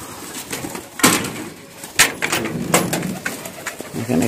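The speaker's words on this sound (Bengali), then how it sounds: "এখানে কিছু ফ্লাইং জোন আছে কবুতরগুলোকে মাঝে মধ্যে ফ্লাইং জোনে ছাড়া হয়।" Pigeons coo softly and repeatedly in a loft's flying area, where homers, grizzles and white racing homers are kept, with a few sharper bursts of wing and movement noise between the calls.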